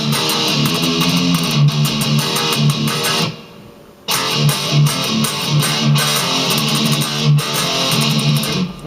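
Heavily distorted electric guitar plays the main riff of a song in drop D, loud and chugging with a steady rhythm, breaking off briefly midway before the riff crashes back in.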